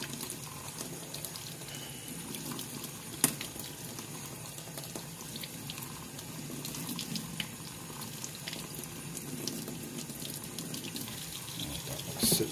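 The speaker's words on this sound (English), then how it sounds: "I'll let that sit there and I'll keep rinsing it." Tap water runs steadily over a pyrite specimen in a sink, a continuous close splashing rush with small clinks and spatters throughout.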